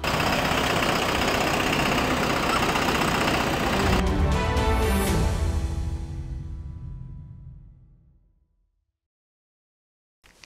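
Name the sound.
Farmlead FL 1104 tractor engine idling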